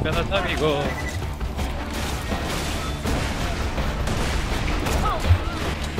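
Borderlands 2 gunfire crackles in rapid bursts under continuous talking, with a few louder shots cutting through the mix.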